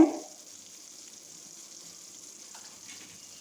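Onion dropped into hot oil while cooking fish-roe bhuna gives a faint, steady sizzle that stays quiet and even throughout after a brief louder start.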